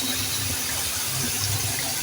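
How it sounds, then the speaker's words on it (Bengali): Water pours steadily into onion, garlic and green chilli paste in a pan while cooking a pangas fish curry, a continuous close gushing wash with a low rumble beneath, no talking. "মশলাটা কষানোর জন্য একটু পানি দিয়ে দিলাম।"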